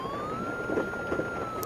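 A police siren wails in a PSX-era horror video game, a steady, moderately faint electronic tone that holds throughout over a low background hum.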